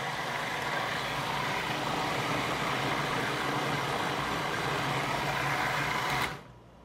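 Cream churning into homemade butter in a machine just as it breaks, a loud steady whirring with liquid sloshing inside, running alone and cutting off abruptly near the end.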